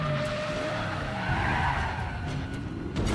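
Brief tire skid and squeal from a car pulling wheelies in Resident Evil 7, a rough screeching smear with engine rumble beneath, moderately loud and continuous, no talking.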